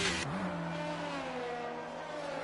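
A safety car engine in a Formula-style racing video game drones steadily, a sustained mechanical whine that dips in pitch early and then holds at moderate volume.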